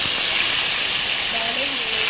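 Spices lightly frying in a pan for potato egg curry, a steady close sizzling hiss that holds level throughout, with faint tonal clinks or squeaks near the end.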